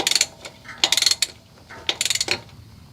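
A socket wrench ratchets on the transmission filler plug of a 2006 Toyota Tundra V6 4.0L, with four quick bursts of loud, close clicking separated by short pauses.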